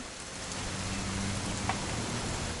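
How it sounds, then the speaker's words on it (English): Steady rain in the video game What Remains of Edith Finch pours down in a constant hiss, loud and unbroken throughout, with a faint low hum underneath. "It's gonna rain the whole weekend, isn't it?"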